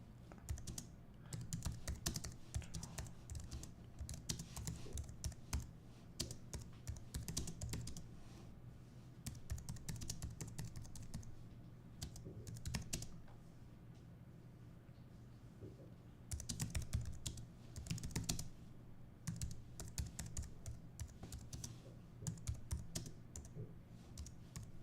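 Fingers tap a computer keyboard in quiet, irregular bursts of clicking, with short pauses between runs of keystrokes.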